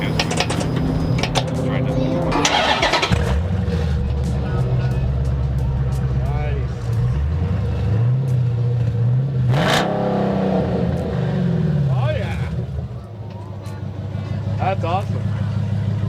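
Hemi V8 fitted with Black Widow exhaust, rumbling loud and close as it fires up and revs in several rising and falling sweeps, with people talking over it.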